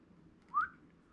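A person gives one short, rising whistle, clear and fairly close, over quiet background hum.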